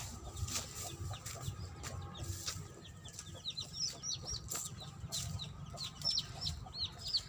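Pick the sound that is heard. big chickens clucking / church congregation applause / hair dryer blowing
big chickens clucking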